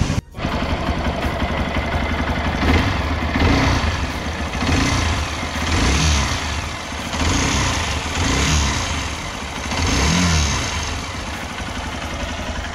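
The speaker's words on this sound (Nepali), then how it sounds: "यसको यो इन्जिनबाट नोइस आउँछ" A faulty Hero motorcycle engine idles steadily and close by, with a rough, uneven mechanical rattle and slight pulsing swells in its note, continuous for the whole stretch with no talking.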